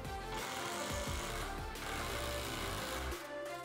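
Long 4.5-inch timber screws are driven by a power driver into a 2x4 outdoor sofa frame, a loud continuous buzzing whir of the tool with a brief pause near the end, heard alone without talk.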